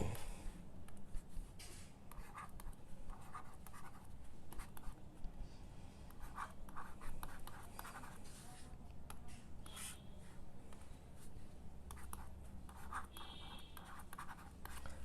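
Steady close scratching of a pen or marker writing out a vector math solution, continuous strokes with short pauses and taps, quiet and without talk.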